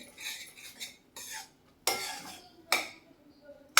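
A spoon stirs cardamom powder into a radish dish in a metal pan, with several bright scraping clinks in uneven bursts, close up and with no talk.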